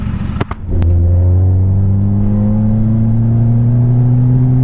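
An Isuzu D-Max pickup with a remapped ECU idles after a couple of sharp knocks, then holds a steady, loud, close engine drone with its pitch rising slowly as it revs.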